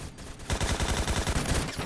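Rapid automatic fire from an AK-12 rifle in a Call of Duty game, a loud sustained burst of evenly spaced shots starting after a brief quiet lead-in.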